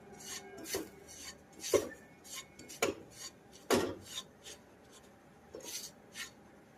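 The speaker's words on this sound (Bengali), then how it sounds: "সুজিটাকে হালকা ভেজে নিয়েছি" Semolina is lightly fried in ghee in a pan, a utensil scraping and stirring against the metal in about half a dozen distinct rasping strokes, close and clear with no talk.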